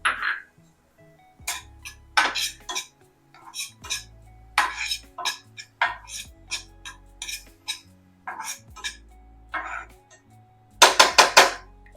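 Chopped tomatoes with onions being sautéed in a pan for an Egg Kejriwal street-style anda toast, heard as repeated metal spatula scrapes and clinks against the pan in bursts, close and fairly loud, with no talking.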